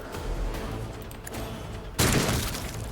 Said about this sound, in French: C'est une arme à fusion, donc ça frappe fort. Ça frappe très très fort et ça frappe en explosion de zone